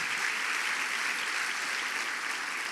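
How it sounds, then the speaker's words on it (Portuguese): A church congregation applauds at an Easter service, a steady even wash of clapping that fills the whole stretch without pause. "Dê um aplauso a Jesus."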